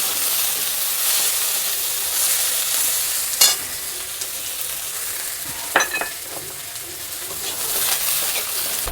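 A large onion hits hot oil already seasoned with dried red chillies, bay leaf and panch phoron, giving a steady, fairly loud sizzle broken by a few sharp spatula scrapes.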